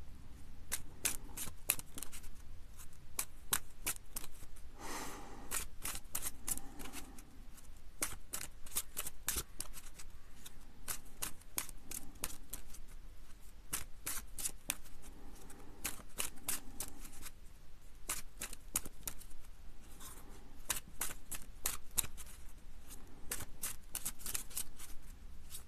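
Tarot cards are shuffled by hand in a quiet room, giving repeated soft riffling bursts and flicks that recur steadily for about twenty-five seconds.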